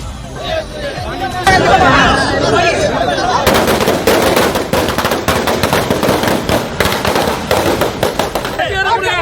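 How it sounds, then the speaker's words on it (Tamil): Rapid strings of firecrackers crackle and pop in dense bursts amid a crowd's chatter and shouting at a vote-counting centre during election celebrations in Vikravandi, loud and nearby. "வாக்கு எண்ணிக்கை நடக்கும் மையத்திலும் திமுகவினர் பட்டாசு வெடித்து கொண்டாட்டம்."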